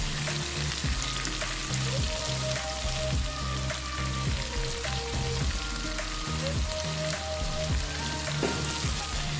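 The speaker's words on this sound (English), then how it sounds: "The chicken pieces have been frying for 3 minutes now." Chicken pieces frying in a pan for a stir-fry noodle dish, a continuous dense sizzle with bursts of spattering and occasional stirring clatter, close and steady, with music playing underneath and no talking.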